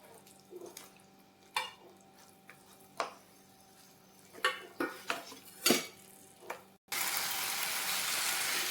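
Fried cabbage Manchurian balls being mixed in a pan, with a spoon scraping and clinking against the metal in irregular bursts, followed by a sudden loud sizzle as the pan heats up.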